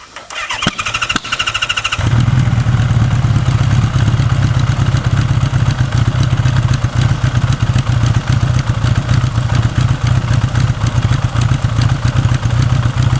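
A Honda GL1000 motorcycle engine with a Hooch C5 ignition starts after a brief crank, then settles into a loud, steady idle with a rapid, even pulse and a faint mechanical clatter.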